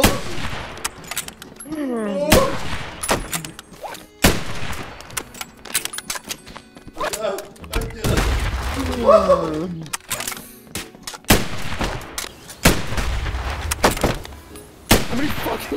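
Explosions in a video game go off as a series of sharp, loud blasts scattered at irregular intervals, with someone talking and reacting between them.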